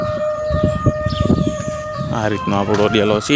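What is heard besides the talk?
village temple siren sounding at 12:30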